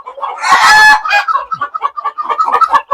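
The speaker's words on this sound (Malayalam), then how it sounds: "കോഴികളുടെ വ്യത്യസ്തങ്ങളായ ഫാൻസി കോഴികളുടെ കരിങ്കോഴികളുടെ ഒക്കെ വിപുലമായിട്ടുള്ള ഒരു ശേഖരം" Several chickens, including fancy breeds and black Kadaknath, cluck and squawk close by at a state farm poultry unit, with one loud burst early on followed by a steady stream of overlapping clucks.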